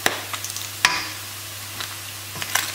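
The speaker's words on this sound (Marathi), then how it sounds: "मांस न्हू हे भाजून जाले." Pork browning in a pan for Goan sorpotel, a steady close sizzle with a few scraping stirs of a spoon against the pan.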